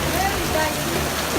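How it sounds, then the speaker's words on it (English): A heavy downpour at an outdoor Kwanjula ceremony gives a constant, broad rushing roar with no pauses, filling the whole short stretch. "This rain is so bad."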